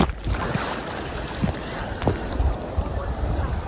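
Water slapping and surging against a kayak as it pushes into a wave, with steady broadband wash, gusty wind on the microphone and a few sharper splashes close by.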